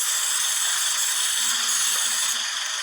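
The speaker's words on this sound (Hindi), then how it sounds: "ये चारकोल कैनिस्टर की तरफ स्प्रे कर रहे हैं" Aerosol spray hissing steadily toward the charcoal canister of a Suzuki Swift with a rough idle and lean condition, a continuous close hiss over a faint engine hum, no talk.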